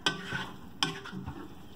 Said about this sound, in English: Set your rice pan back to the side, and then go ahead and stir.